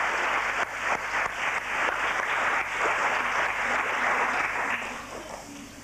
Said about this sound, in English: Please give him a warm hand of applause.